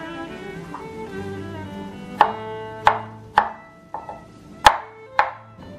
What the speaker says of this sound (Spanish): Vamos a picar nuestra piña, no tan grande ni tan chiquita,